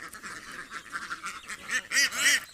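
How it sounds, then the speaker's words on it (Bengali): Ducks on a duck farm of about 240 birds quack repeatedly in short nasal bursts, with the calls growing louder and more overlapping toward the end, with no one speaking. "তো এখানে মোটামুটি আমার 240টা হাঁস আছে।"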